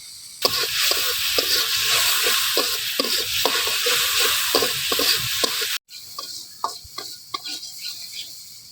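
Spices sizzle and fry in a hot pan while a utensil scrapes and stirs in a steady rhythm for a tamarind fish curry, with turmeric, chili, dried chili powder and salt. The sound is close and continuous, with a brief break near the end.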